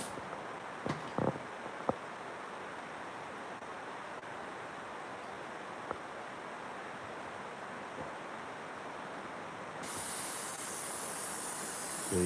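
An airbrush blowing air through to clean it out, a steady soft hiss that runs throughout, with a few faint clicks early on and a brighter, louder rush near the end.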